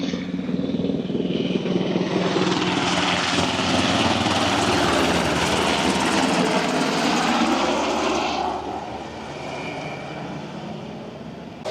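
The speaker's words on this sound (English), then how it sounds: "And every once in a while, we got these Black Hawk helicopters that fly right by the beach." Black Hawk helicopters fly low past a beach, a loud, steady rotor-and-engine roar that holds for about eight seconds and then fades into softer background noise.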